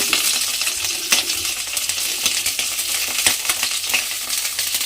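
Cauliflower sizzles and crackles loudly in hot oil, with occasional metallic clicks of a utensil against the pan.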